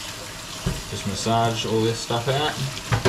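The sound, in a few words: water running from a sink tap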